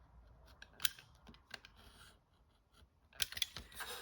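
Scissors snipping through two layers of folded craft paper cut along a ruler line for a Christmas place card, a few quiet, close crisp snips separated by soft paper handling.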